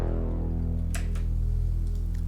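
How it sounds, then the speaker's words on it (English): A deep sub-bass layer of a synth bass built in Arturia CZ V for an Afro house track plays as a steady low hum, with faint ticking percussion above it and no voices. "It's the subby part of the bass"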